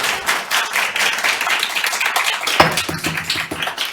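Audience applause at an Idaho legislature committee hearing, a dense burst of many hands clapping close and loud, sustained for several seconds with a sharper clap near the end.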